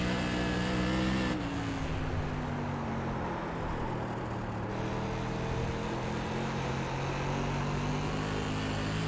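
NASCAR Modified race car engines roar in iRacing at USA Speedway, a loud continuous drone from the driver's car with pitch steps as gears shift and other cars' engines close by, without speech.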